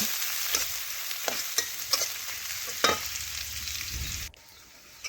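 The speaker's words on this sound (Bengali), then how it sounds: "এখন পেঁয়াজ একটু নাড়াচাড়া করে আমি ভালোভাবে লাল লাল করে একটু ভেজে নিচ্ছি" Chopped onion frying in a pan, a steady sizzle with repeated scraping strokes of a spatula as it is stirred, the sizzle cutting off abruptly near the end.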